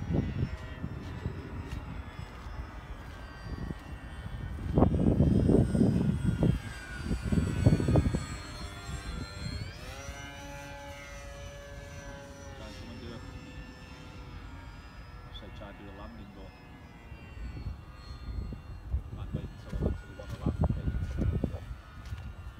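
A Durafly Tundra RC plane fitted with floats flies near a puddle on a windy day, its electric motor whine rising and sweeping in pitch as it passes, with bursts of wind buffeting and people talking now and then.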